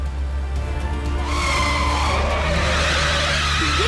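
A car with failed brakes skids, its tyres hissing and scraping over a steady engine drone that swells after the first second and holds loud to the end, with no voices.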